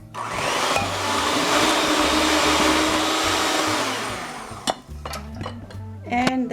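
Salt and spices being mixed into pumpkin pie filling for a homemade pumpkin almond pie, a steady whirring mixer drone for about four seconds, then scattered clinks and scraping against the bowl.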